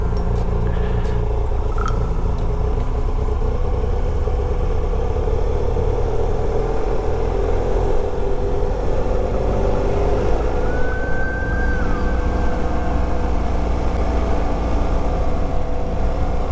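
A motorcycle descends Mount Washington in first gear with the brakes on. Its engine drones steadily under constant loud wind rush, with a brief high whine late in the ride and no talking.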